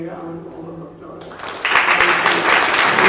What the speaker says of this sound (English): they also need a very, very round warm of applause.